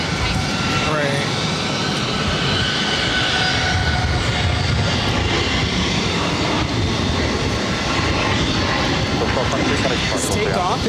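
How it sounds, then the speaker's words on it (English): A Southwest Airlines Boeing 737 MAX 8 jet takes off from Boston Logan, a broad continuous engine roar holding strong and loud throughout, with faint voices in the background. "This takeoff is Southwest Airlines 1223, taking off to Nashville on a MAX 8"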